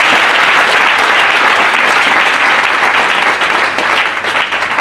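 A congregation at a church consecration service in Abobo applauds loudly and continuously, a dense wash of many hands clapping at once.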